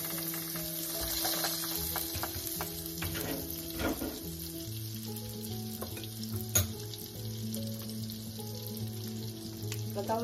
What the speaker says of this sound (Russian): Растапливаем на сковороде 2 столовые ложки сливочного масла.